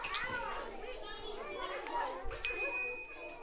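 A bell gives a single bright ding partway through, ringing out clearly over the busy chatter and voices of children nearby.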